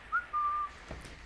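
A person whistles a short two-part tune: a brief rising chirp followed by a longer steady held note, fairly close and clear, with no talking over it.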